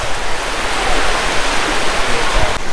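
Sea waves wash at Bocagrande beach in Cartagena, Colombia, a loud, steady rushing surf heard up close from within the warm water.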